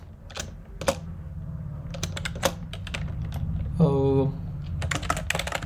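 Someone types code on a computer keyboard, a steady run of crisp, close keystrokes in irregular bursts with a few louder clacks, while a voice talks faintly underneath.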